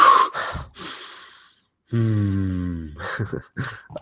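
Nasal breathing close to the microphone: a few sharp sniffing inhales and exhales, then a short pause and a hummed, snort-like sound followed by more quick breaths.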